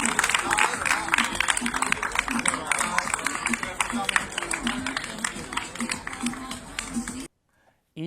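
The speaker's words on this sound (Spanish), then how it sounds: "Un aplauso." Applause fills a room during a local sports recognition segment, a dense patter of clapping mixed with talk that runs steadily and then cuts off abruptly near the end.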